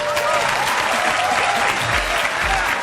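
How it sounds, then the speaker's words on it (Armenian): A studio audience at a television game show claps warmly and continuously to welcome the guests, with a dense, loud applause and a voice partly heard beneath it. "ձեր ջերմ ծափահարությունները"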